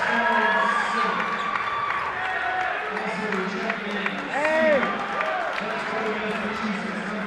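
Home crowd at a men's college basketball game, Wheaton versus North Park, applauding its seniors during a timeout, a steady wash of clapping and murmuring voices with brief shouts, with voices talking over it.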